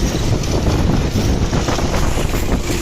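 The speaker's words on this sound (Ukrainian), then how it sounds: "Вибачайте за вітер. Сьогодні трохи більш вітряно, ніж вчора." Steady, loud wind buffets the microphone with a constant low rumble and roar in a soybean field during sowing. Nobody speaks.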